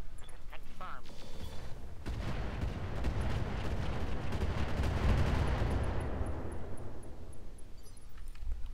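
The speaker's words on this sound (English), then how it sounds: "We got 3 rounds of rocket launcher fire," Rocket launcher fire in the mech strategy game Roguetech, a long rumbling barrage of explosive booms swelling to a loud peak midway before thinning into crackling debris and fading.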